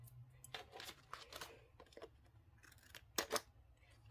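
Quiet, close snips of scissors trimming a paper sticker, several short crisp strokes in an irregular rhythm over a low background hum.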